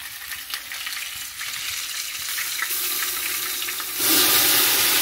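About six cups of water are poured into a cooking pot on the stove for biryani rice, a steady rushing hiss that grows louder and fuller toward the end, with no voices.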